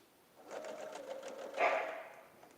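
A sewing machine stitches a quilt block for a Barbed Chevron pattern, giving a steady close motor hum with rapid needle pulses that swells louder toward the end.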